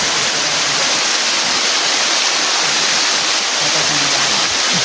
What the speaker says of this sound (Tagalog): nindot ng talon dito